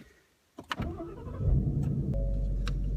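A 2016 Ford Mustang GT V8 engine cranks and starts up close, then settles into a deep, steady rumbling idle that fills the rest of the recording.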